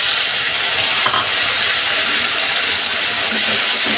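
Tomatoes hit a pan of onions already fried red-brown, giving a loud, steady, broad sizzle that holds evenly throughout with no talking.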